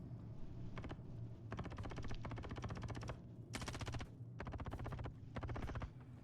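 Automatic gunfire from a hostile player strikes a ship during a bunker mission in the space game Star Citizen, coming as several loud rapid bursts of about a second each with short gaps between them, over a steady low engine hum.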